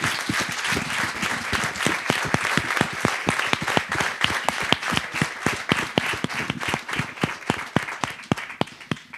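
An audience gives a round of applause for a speaker at a talk; many hands clap in a loud, rhythmic, almost synchronized beat, sustained and close, with no voices over it.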